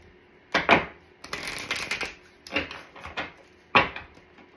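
Cards from an advice card deck being shuffled and drawn: crisp riffling and flicking in several short bursts, close and fairly quiet, with no talking.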